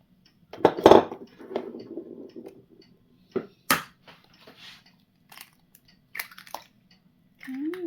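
Eggs cracked one after another into a bowl for a no-oven banana pan cake, giving a few sharp shell cracks and wet splats with clinks of bowl and utensils between quiet gaps, close by with no talking.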